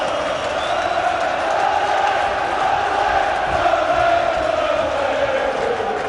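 A large football crowd at Turf Moor, Burnley, roars and cheers in celebration late in a 3–2 match against Preston North End, a dense, sustained wall of voices filling the stadium without letup.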